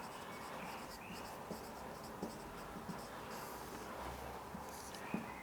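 Chalk or marker scratching steadily across a classroom board as a teacher writes, a continuous scraping texture with small taps, moderately close and alone with no talk.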